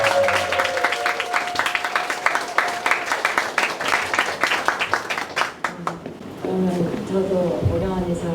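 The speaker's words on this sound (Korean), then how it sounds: "박수로 환영합니다." An audience in a Korean church Bible academy session claps to welcome a guest speaker, with dense applause for about six seconds under a voice, then the clapping fades as he begins talking.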